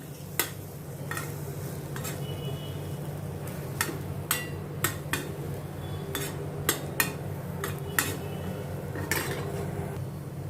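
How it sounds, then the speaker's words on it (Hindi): Chopped boiled potato mixed into an onion chaat mixture in a bowl, with a run of close, sharp clinks and scrapes from the spoon at an uneven rhythm over a low steady hum. "ये मैंने एक बॉयल किया हुआ आलू काट के रखा है छोटे छोटे पीसेस में, ये भी मैं इसमें मिक्स करती हूँ"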